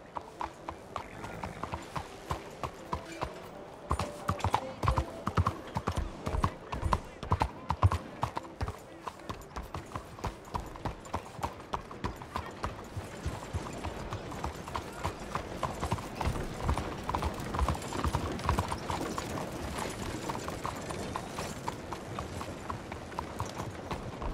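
Horse hooves clip-clop in a steady trotting rhythm throughout in Red Dead Redemption 2, a Western video game, with faint mechanical creaks and a voice briefly in the background.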